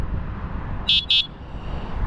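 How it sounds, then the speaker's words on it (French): Two quick high-pitched electronic beeps from the small horn of an iScooter W12 electric off-road scooter, sounding close and clear over a low background hum. "petit klaxon"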